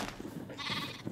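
A Minecraft sheep lets out a short, faint bleat, close by and over in about a second, with no voices.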